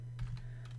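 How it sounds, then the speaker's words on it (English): Keystrokes on a computer keyboard, a short run of a few soft clicks close to the mic over a steady low hum, with no voice. "I'm bad at typing while talking."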